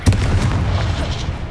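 Sharp crack opening into a booming low rumble as the Confringo blasting spell strikes in Hogwarts Legacy, with smaller pops scattered through the close, loud roar.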